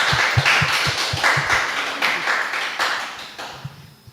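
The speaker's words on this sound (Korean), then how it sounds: "큰 박수로 환영해 주시면 감사하겠습니다" An audience at a mission forum claps to welcome a speaker, brisk rhythmic applause with distinct claps that gradually thins out and fades.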